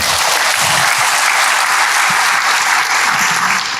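Church congregation applauding together, a steady, loud, dense wash of clapping that holds evenly from start to end with no speech over it.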